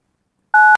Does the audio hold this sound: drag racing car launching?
no